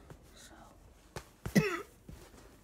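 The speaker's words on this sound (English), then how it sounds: "excuse me, coughing." A single adult cough, with a softer throat-clearing sound just before it, close and fairly loud during a quiet indoor moment while a baby's diaper is being changed.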